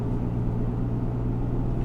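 A steady low engine drone and road rumble come from inside a car cruising on a long road trip along the Alcan highway, with no talking.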